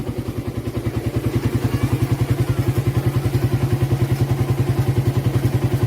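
Manually operated engine on a small pincara crossing ferry boat in Jakarta, a steady rhythmic low chugging thump at a regular fast pulse, continuous and fairly close throughout.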